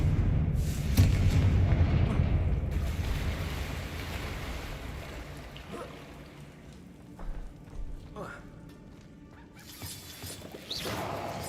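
Confringo fire spell explosion in Hogwarts Legacy, opening with a loud blasting burst that rolls off into a long rumbling decay, followed by scattered fainter crackles and hits.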